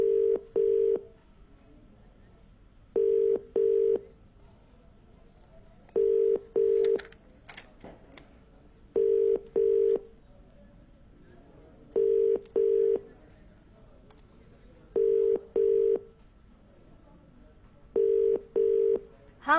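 A phone call attempt plays out as repeated pairs of short electronic ringback tones at regular intervals, with a faint recorded network voice in the background between them.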